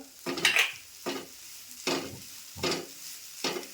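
Dried fish roasting with a little oil in a pan, stirred in five separate scraping strokes about a second apart, each with a brief sizzle, close and moderately loud, no voices.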